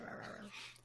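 A dog growls low and continuously while gnawing on a bone, close by and fairly quiet, with a rough, noisy texture throughout.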